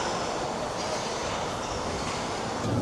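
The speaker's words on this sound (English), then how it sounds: "This is a District Line train." London Underground District Line train running between stations, a loud, constant rumbling roar of wheels and carriage noise heard from inside the car.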